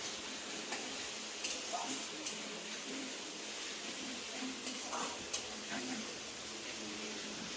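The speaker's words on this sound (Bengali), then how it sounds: "পেঁয়াজ পেস্ট করে যে ভাজিয়ে নিচ্ছি।" Onion paste frying in a pan for Bengali mutton kosha, a soft steady sizzle with occasional light stirring clicks, fairly faint and continuous.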